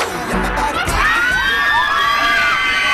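A large crowd greets a Korean singer with loud, continuous cheering and high-pitched shouting and screams, a dense wall of excited voices throughout.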